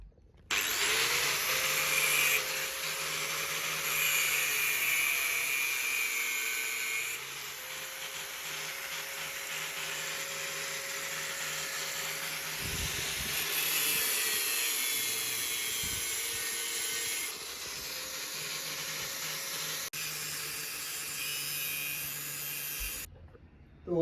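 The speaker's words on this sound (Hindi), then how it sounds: "ये लकड़ी, तो कील को यहाँ से कटिंग कर लेते हैं।" A power tool cuts wood with a loud, steady whine in long passes broken by short pauses, with low scraping underneath and no talk.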